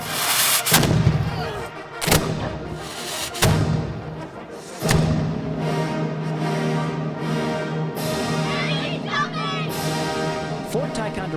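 A historic cannon fires at Fort Ticonderoga, with several loud booms spaced a second or two apart, each followed by a rumbling tail, amid crowd and children's voices.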